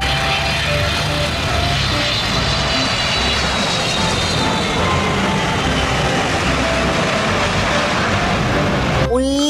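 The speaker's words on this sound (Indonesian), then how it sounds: "lihat, di sini ada pesawat terbang" A droning toy airplane's engine sound roars steadily close by, a loud continuous hum with rising whine tones, ending in an abrupt sweep at the close.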